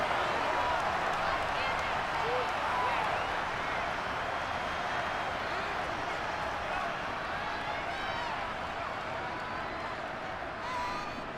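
A stadium crowd in the football game Madden 23 shouts and cheers in a steady, fairly soft roar with scattered whoops and claps, a commentator talking over it.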